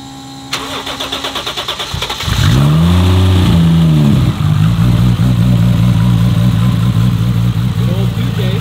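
A tuned Toyota 2JZ stroker engine cranks and fires up, then revs hard and settles into a loud, rough idle with repeated blips of the throttle, close by.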